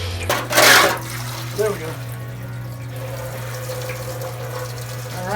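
Coolant draining from the radiator of a 1999–2004 Jeep Grand Cherokee, a steady close trickle after a brief loud splash at the start, with a voice speaking briefly over it.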